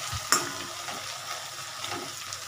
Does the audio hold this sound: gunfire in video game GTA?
no